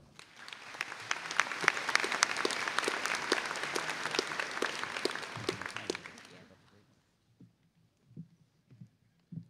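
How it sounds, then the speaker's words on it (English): Loud sustained applause from a crowd at a high school graduation ceremony, dense clapping for several seconds that then stops abruptly, leaving a few faint scattered claps. "Please give our salutatorians and valedictorians another round of applause."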